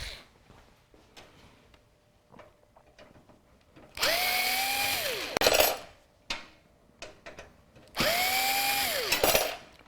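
A power driver backs screws out of a PC case during a gaming PC build, giving two loud whirring bursts that each rise and fall in pitch, with small clicks and clatter between them.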